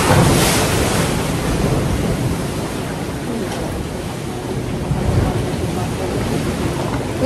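Sea waves and wind at the shore, a dense, loud, continuous roar of surf with wind buffeting the microphone, steady throughout with no clear breaks.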